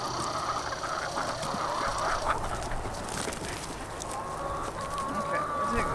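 Chickens cluck and squawk in a backyard near a Biopod composter, with several birds calling over a busy, noisy background and muffled voices.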